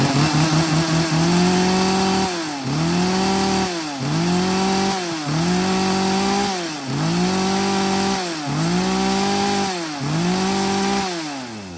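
A Japanese-market used chainsaw from a lot of Stihl, Husqvarna, Echo and Makita saws runs loudly and steadily, revving up and down in a regular rhythm about every one and a half seconds, close and alone.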